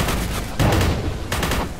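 Long-range gun in the Forgive Me Father video game firing two loud, booming blasts about three quarters of a second apart, with a rumbling, sustained background between them. No voices.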